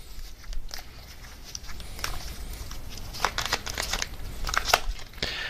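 Tarot cards being shuffled and drawn from a deck, giving a steady close papery rustle and crinkle with a few sharper card snaps, continuous with no talking.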